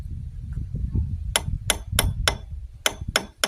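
Sharp metal hammer strikes while repairing an old tractor, a cluster of four quick blows followed by a pause and three more, close and loud over a low background hum.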